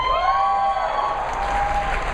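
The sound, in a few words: audience applauding and cheering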